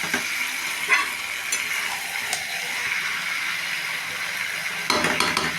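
Jackfruit curry sizzles steadily in a pan, with a soft bubbling hiss throughout, occasional clinks from a utensil, and a louder burst near the end as warm water is poured in.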